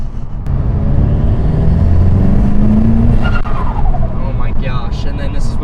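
VW MK7 GTI with a Forge blow-off valve, car under way with loud steady engine and road roar; a short, fluttering, descending chirp rises out of the noise after a gear change, heard from inside with windows closed.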